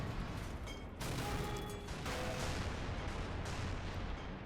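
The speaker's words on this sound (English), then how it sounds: "there's a exchange of fire" Dense, continuous exchange of tank fire in a North Africa Afrika Korps battle from a realism-modded war game, with repeated booming shots and rattling gunfire layered over a constant roar of combat.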